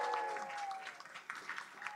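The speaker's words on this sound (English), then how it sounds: "Can we have an applause, a cheer for everybody in the room if you can hear me?" A room full of people at a Silicon Valley event at LinkedIn applauding and cheering, a loose wash of clapping with scattered whoops, while a faint steady tone lingers early on and the clapping thins toward the end.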